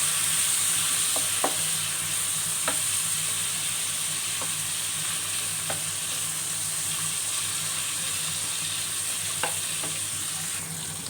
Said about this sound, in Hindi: अब मैं इसमें गार्लिक पेस्ट जो है ऐड करूँगी और हरी मिर्चें। अब इसको मैं इसमें अच्छे से भूनूंगी 5 मिनट।